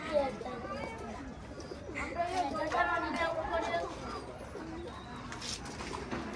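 Pigeons cooing nearby, soft repeated throaty calls mixed with faint background chatter and people talking.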